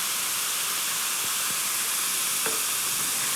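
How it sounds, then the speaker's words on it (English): Beef mince frying in a pan, a steady bright sizzle throughout with a few soft scrapes and knocks as it is stirred, close and continuous with no voices. "So you want to cook your mince until it's brownish"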